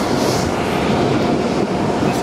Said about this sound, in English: Let's hop the train.